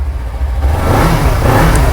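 Kawasaki Ninja SS motorcycle engine running at a steady, smooth rev with a low droning hum that swells slightly, heard up close with no talk.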